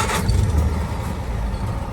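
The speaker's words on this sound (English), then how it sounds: "quick video of start up and running on this 1948 Series 180-inch" A 1948 Land Rover Series 1 80-inch fires up and settles into a steady, low engine rumble, loud and close, with no talk over it.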